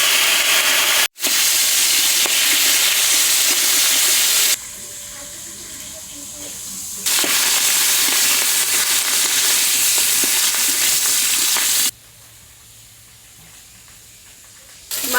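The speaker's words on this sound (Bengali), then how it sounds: "এখন ইলিশ মাছের মাথাগুলো ভেজে নেবো।" Hilsa fish heads frying in mustard oil in a wok give a steady, loud sizzle that runs in long stretches, dropping to a softer hiss in two quieter spells.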